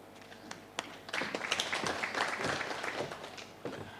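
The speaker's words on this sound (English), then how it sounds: "One more round of applause, please, to the chief guests." Audience applause at a regional small arms conference marking an anniversary, building from scattered claps into a steady round of moderate clapping in a hall.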